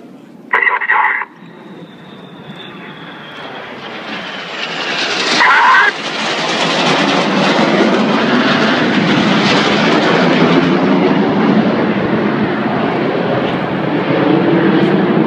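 Red Arrows jets cross in opposing 360-degree 6G turns at a Torquay display, a loud, building jet roar that swells and holds, with brief radio-like chirps early on.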